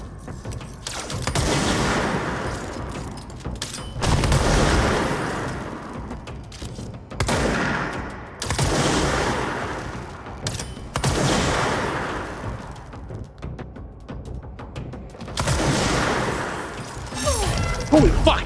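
Gunfire in the action game Control, loud dense volleys arriving in several sustained bursts separated by brief lulls, with booming impacts mixed in.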